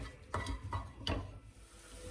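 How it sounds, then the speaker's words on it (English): Onions sizzle softly in oil in a pan while a utensil stirs them, making a few scraping clicks. "Okay, the onions are frying now."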